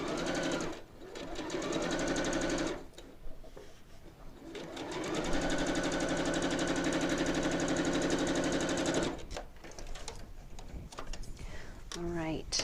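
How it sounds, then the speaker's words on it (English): A sewing machine stitches quilt block pieces in several bursts, each a fast, steady mechanical whir. Short pauses come between the runs, and a person speaks briefly during the breaks. "let's give that a quick stitch"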